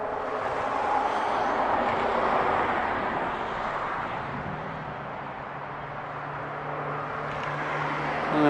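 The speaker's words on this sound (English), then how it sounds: "That's where all the traffic noise is coming from." Road traffic crossing a bridge near a riverside campground on the Ausable River in the Adirondacks, a steady distant hum of vehicles that swells and fades as cars pass.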